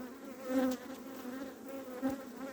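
Honeybees buzz at an open, fast-building spring hive heavy with nectar, a close, steady hum with rising and falling swells as individual bees pass near.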